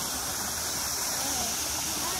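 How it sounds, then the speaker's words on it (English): Waterfall in a cheetah enclosure at the Cincinnati Zoo, a steady broad rushing roar of falling water filling the whole clip, close and continuous. "check out this beautiful waterfall"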